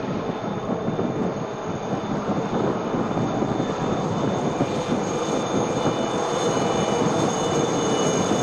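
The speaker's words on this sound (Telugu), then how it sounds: "యుద్ధ విమానాల హెలికాప్టర్ల గగన విన్యాసాలు" Fighter jets fly over the sea during the Vizag naval fleet review air show in 2022, a loud, continuous roar that holds steady throughout with no voices.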